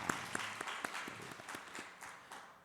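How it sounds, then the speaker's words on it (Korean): A Korean church congregation gives a short round of scattered, fairly quiet hand-clapping that gradually thins out over a few seconds. "박수 한번 해주시면 좋겠습니다."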